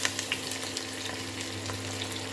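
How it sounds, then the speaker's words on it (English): Chopped onion sweats in coconut oil in a pan with meat and luau, giving a steady, moderate crackling sizzle with small popping bursts and no talk. "Just sweating the onion up."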